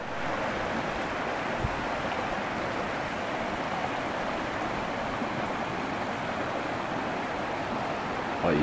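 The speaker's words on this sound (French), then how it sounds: "C'est ce qui fait que c'est une mini cascade." Continuous rushing water, a steady broad splashing roar of a small waterfall tumbling over stone steps in a stream, close and unbroken throughout.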